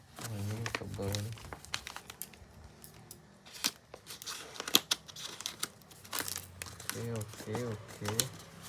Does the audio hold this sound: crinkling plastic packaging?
yes